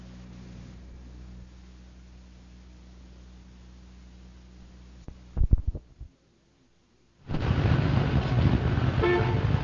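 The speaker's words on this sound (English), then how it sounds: "here we are again, 7:30 in the morning and sitting in another traffic jam." Car horns honking in a morning traffic jam in a 1974 radio mystery drama, a brief cluster of loud toots after a low engine hum, then a pause before dense traffic noise swells.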